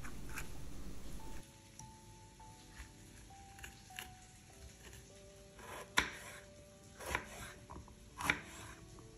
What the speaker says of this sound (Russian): Нарезаем перец мелкими кубиками.